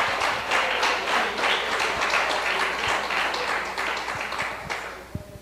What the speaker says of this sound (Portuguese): Você quer aplaudir, aplauda ao Senhor.